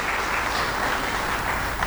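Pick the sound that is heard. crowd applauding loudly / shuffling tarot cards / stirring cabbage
crowd applauding loudly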